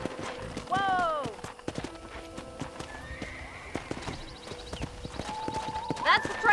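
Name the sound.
horse hooves and whinnying in video game Red Dead Redemption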